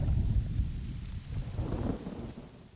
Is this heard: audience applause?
no